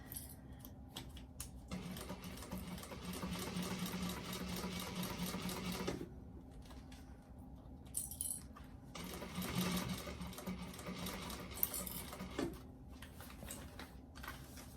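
Sewing machine stitching a bag, running in long steady bursts with a rapid rattling needle rhythm, pausing briefly between runs, close and moderately quiet with no speech.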